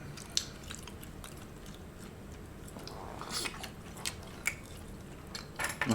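Close, quiet chewing of potato wedges and Vietnamese-style lobster in Saigon, with soft, moist crunches and bites over several seconds and a few faint clicks of cutlery against dishes.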